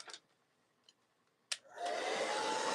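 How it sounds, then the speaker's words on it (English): A hair dryer used for drying glue on a leather wine box clicks on after a few small taps and knocks, then blows with a steady, loud whoosh close by. "but I need my dryer"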